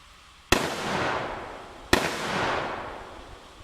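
Two loud AK-47 rifle gunshots fired about a second and a half apart outdoors, each a sharp crack followed by a long rolling echo that decays across the open space, with no talk.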